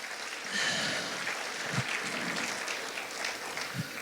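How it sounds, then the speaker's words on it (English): A church congregation claps in praise to the Lord, a broad steady wash of many hands that holds for about four seconds with no talk over it. "Give the Lord a hand clap of praise."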